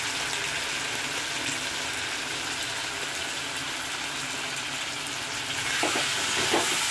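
Chili powder and spices fry in oil in a pan, a steady close sizzle with occasional scraping stirs and a few soft knocks near the end, no talking.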